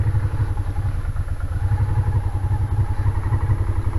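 A restored Honda Ascot motorcycle engine runs steadily at idle nearby, with a low, pulsing thump and a faint mechanical clatter on top.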